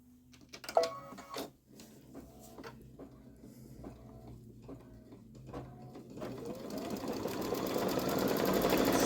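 A Babylock Solaris embroidery machine stitches an in-the-hoop eagle zippered bag, its needle tapping in quick regular bursts before settling into a rising, continuous whirring hum, close and moderately quiet.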